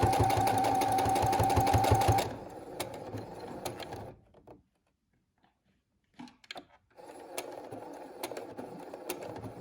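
A sewing machine stitches pleats on a fabric face mask in a fast, loud, rhythmic burst lasting about two seconds, then stops, leaving scattered clicks, a near-silent gap and renewed soft mechanical handling noise.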